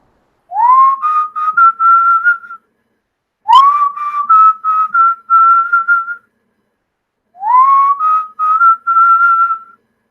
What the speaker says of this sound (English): He's kneeling, whistling, tightening the bolts with his ratchet.